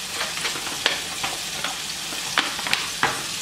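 A spoon stirs tomato sauce with meatballs in a pan, giving soft scraping and a few sharp clinks against the pan over a steady low sizzle. No one speaks.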